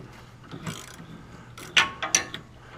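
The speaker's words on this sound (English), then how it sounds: "here I'm just gently working this bolt out. Trying not to strip it." A bolt on a Ford SuperDuty truck cab mount is turned with a ratchet, giving soft clicking work and then a few sharp close ratcheting clicks near the end, with no talking.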